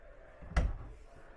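A single short knock of an RV cabinet drawer shutting, a brief soft wooden thud in a quiet interior.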